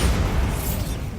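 A Bombarda spell in Hogwarts Legacy blasts with a heavy, booming explosion that rumbles and fades over about a second, loud and close with no talk.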